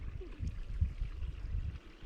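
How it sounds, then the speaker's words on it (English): A small creek flows along a hiking trail, giving a soft, low gurgling trickle that stays faint and steady for two seconds. "Nice little creek flowing."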